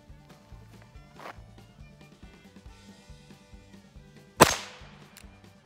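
Single sharp crack of a Chiappa 1873 Single Action Army .22 revolver fired at knockdown targets 20 yards away, one loud report over a steady rhythmic background, with faint clatter earlier.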